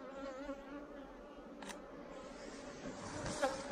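Swarm of more than ten thousand bees buzzing all around, a dense continuous hum with close passing buzzes, fairly faint, with no talk over it.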